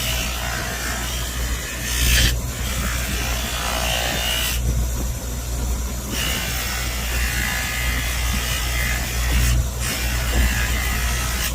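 Edge of a Kydex plastic sheath buffed by friction alone with no compound, a continuous loud motor whine and grinding rub, with a few brief changes in pitch as the pressure shifts, and no speech.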